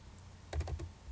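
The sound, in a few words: computer keyboard keys pressed (Shift+P)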